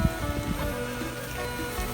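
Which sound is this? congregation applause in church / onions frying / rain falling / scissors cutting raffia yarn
rain falling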